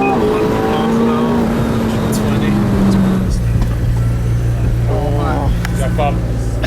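A 700 bhp McLaren 720S accelerates on a wet race track, its engine note rising in pitch then dropping with a gear change, loud and close, heard from inside the car with people talking over it.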